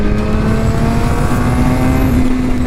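A 2016 Suzuki GSX-R750 motorcycle engine pulls hard under acceleration, a loud, steady rising drone with strong harmonics and heavy wind rush, sustained throughout with no talking.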